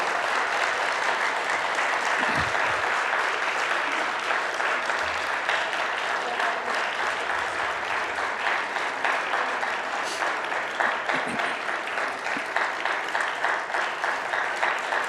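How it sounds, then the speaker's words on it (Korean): Sustained applause from a church congregation at a Sunday service, steady and dense clapping that continues throughout, congratulating members as flowers are presented. "뜨거운 박수로 우리 축하해 주시기 바랍니다"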